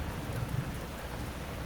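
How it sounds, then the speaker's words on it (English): Rain falls steadily during a storm as a dense, even hiss, with a soft low rumble of distant thunder briefly rising beneath it. "That thunder was farther away. The storm is moving on."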